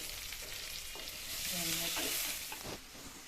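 Curry leaves and shallots frying in hot oil for an Ayala fish curry, a steady broadband sizzle with light crackles that swells briefly in the middle, close and alone with no talk.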